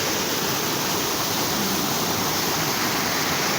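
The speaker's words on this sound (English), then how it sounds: "there's the waterfall, as you can see. Lots of it." A freshwater waterfall pouring out toward the sea beside a river, giving a loud, dense, unbroken rushing roar heard close up with no voices.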